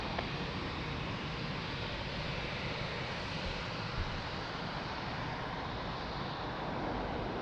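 An Airbus A330 lands at Lisbon Airport, a steady, broad roar of jet engines and rushing air that holds at an even, moderate level for several seconds, with no one speaking.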